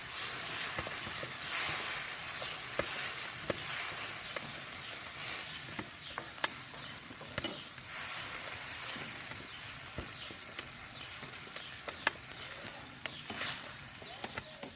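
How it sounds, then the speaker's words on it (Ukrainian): Beaten eggs stirred in a pan over an outdoor BLACKSTOVE picnic stove for an omelette, giving a steady, moderate sizzle with scattered sharp clicks of a utensil against the pan. "Тепер додаємо яйця. Все гарно мішаємо."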